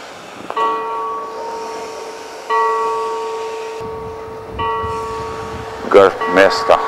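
Church bells of Roskilde Cathedral in Denmark ring at ten o'clock on a sunny day, sustained tolling tones that overlap in steady strokes, with brief louder clangs near the end.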